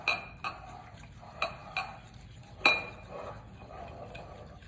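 Honey and olive oil mixture stirred in a bowl, a spoon clinking against the sides in a handful of separate sharp taps, close and clear in a quiet kitchen.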